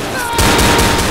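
Gunfire in Left 4 Dead, a dense burst of rapid shots that starts abruptly and packs the rest of the second, loud and close.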